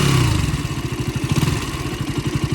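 A KTM RC 200 motorcycle engine idles nearby with an abnormal rhythmic clatter, said to come from low oil level, pulsing loudly and evenly over a short stretch with no talking.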